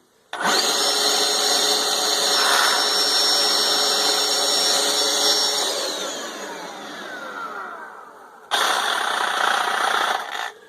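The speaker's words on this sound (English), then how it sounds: "as I pull this trigger, it will activate the hammer vac vacuum while it does its job with a cement bit" A Milwaukee 2712 HammerVac rotary hammer with a cement bit whines steadily with its dust vacuum roaring alongside, winding down briefly before another harsh burst of drilling near the end.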